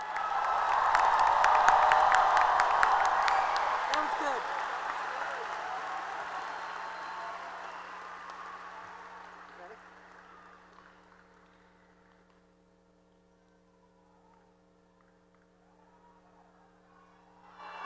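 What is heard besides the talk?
graduation ceremony audience applause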